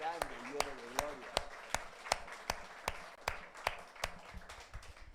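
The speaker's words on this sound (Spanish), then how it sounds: "¿Quieren darle palmas al Señor por su gloria?" A church congregation claps in a steady rhythm of sharp, evenly spaced claps, with a voice speaking over the start.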